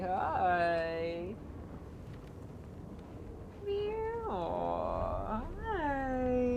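A cat mewls close by in several drawn-out, wavering meows, with a quieter pause between the first call and a pair of later ones.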